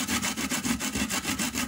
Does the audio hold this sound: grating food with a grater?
yes